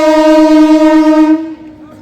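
A suburban Kolkata Chakrarail train at Ballygunge station sounds a loud, close, steady horn note that lasts about a second and a half, then stops, leaving low rumbling station noise.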